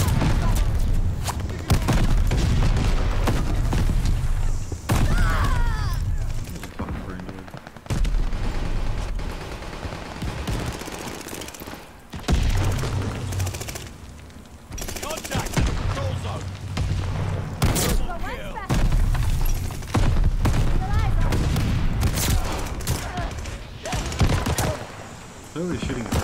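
Shotgun blasts in Call of Duty Vanguard multiplayer, loud bursts of gunfire and booms recurring through the stretch with brief pauses, mixed with other game noise and a player talking at times.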